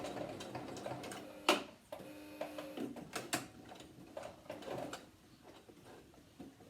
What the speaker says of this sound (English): turn the material around and sew back up again the other way along the same line